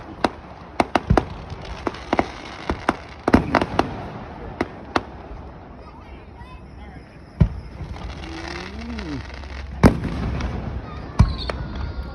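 Fourth of July fireworks in Gouverneur, New York: sharp, irregular cracks and bangs, some in quick clusters, from nearby launches, with voices talking faintly in between.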